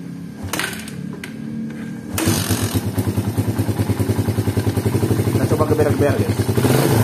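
Motorcycle engine kick-started with no battery fitted, catching after a few dull thumps and settling into a loud, steady, close idle with rapid rhythmic pulsing.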